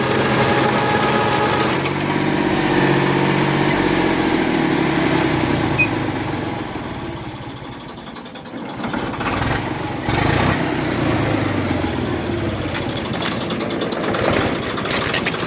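A village rider's motorcycle engine runs steadily at close range, dipping briefly midway before picking back up, with no talking.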